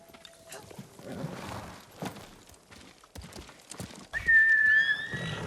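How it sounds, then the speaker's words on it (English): A horse whinnies loudly near the end in Ghost of Tsushima, a rising then falling neigh, after scattered hoof clops and rustling under a quiet voice. "Horse!"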